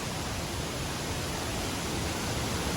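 Water rushes over Bomburu Ella waterfall in Sri Lanka as a dense, steady roar that fills the whole short stretch, close and loud, with no other sounds.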